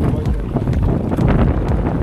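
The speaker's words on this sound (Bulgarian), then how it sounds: "Тук вятъра срещу нас" Strong wind buffets the microphone out on open water aboard a small boat on a camping trip, a steady loud low roar with gusting swells and no clear speech.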